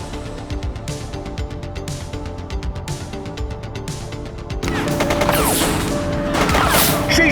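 Gunfire in the police video game The Precinct, rapid bursts of shots in several clusters, then a louder, denser stretch of continuous firing mixed with crashing action noise.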